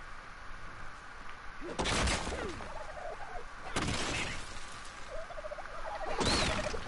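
Dodo birds squawk in the Ark survival game, three loud bursts of gobbling, turkey-like calls spaced a couple of seconds apart over a steady game ambience.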